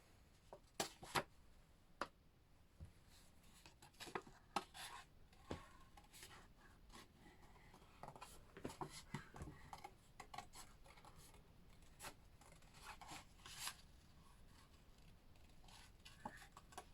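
Scissors or a blade quietly cutting a runner bean shape from paper or card, heard as faint, close, irregular snips and scratchy rubbing strokes at low level with no talk.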